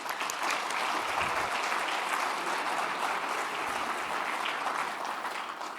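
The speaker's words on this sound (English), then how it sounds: "So a big round of applause for them." Steady audience applause fills a city State of the City address after a playground donation is recognized, dense clapping holding loud and even for about six seconds with no talk over it.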